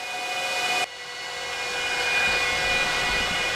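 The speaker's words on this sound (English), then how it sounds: "let's turn on the 83070s. These are the blower style ones" Eight blower-style RTX 3070 graphics card fans on an open-air mining rig whir up after a click, a steady whooshing hum that grows louder over a few seconds.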